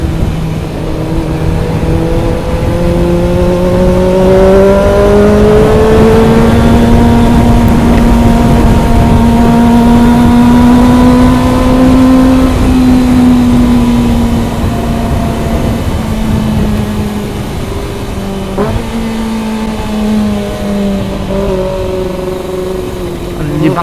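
Kawasaki ZX25R inline-four motorcycle engine on a mountain ride, a loud steady drone with rising and falling pitch as the rider holds and shifts revs, continuous throughout with wind rush and a brief dip near the end.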